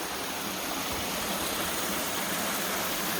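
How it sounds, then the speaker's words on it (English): Waterfall on the Sipsey Wilderness backpacking trail, a loud, steady rush of falling water heard up close with no voices over it. "I'm at a very beautiful section right now with a nice beautiful waterfall"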